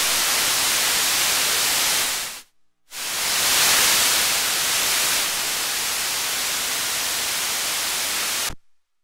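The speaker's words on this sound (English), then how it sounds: "is a random signal, having equal intensity at different frequencies." Steady loud white noise from a Cavisynth synthesizer hisses evenly across the spectrum, cuts out briefly, returns slightly brighter, then stops abruptly at the end.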